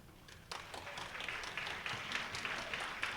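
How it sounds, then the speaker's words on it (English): An audience claps for a speaker at a SecKC live-streamed talk: a dense patter of many hands that starts abruptly, holds steady for a few seconds, and sounds fairly distant in a room. "So please give a big round of applause."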